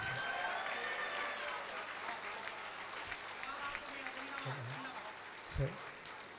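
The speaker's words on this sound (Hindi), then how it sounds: "एक बार ताली बजा के मेरा सम्मान" A college crowd at a stage comedy performance claps in a soft, distant burst that fades, as a voice speaks briefly beneath it near the end.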